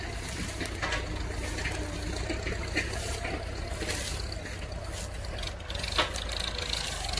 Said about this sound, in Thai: เราใช้เครื่องจักรเป็นรถไถนะครับ